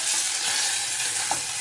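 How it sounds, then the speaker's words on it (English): Chopped onions sizzle steadily in a pan over medium-high heat for seasoned baked beans, a continuous close hiss with one small pop near the end. "I'm just going to add the onions into it straight away, and I'd say put it on like a medium-high heat."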